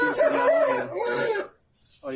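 A chicken makes a short run of loud, pitched clucking and crowing calls close by, then a brief pause and another call starts.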